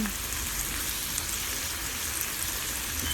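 Chopped onion fries steadily in hot oil in a pan for homemade chicken and BBQ mince beef pizza, giving a loud, even, close crackling sizzle with no talk.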